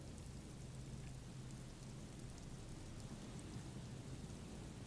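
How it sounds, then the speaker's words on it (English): Steady drizzling rain from the Disco Elysium video game, a soft continuous hiss with a low rumble beneath it, held at an even level throughout with no voices. "The drizzle, it never seems to stop, does it?"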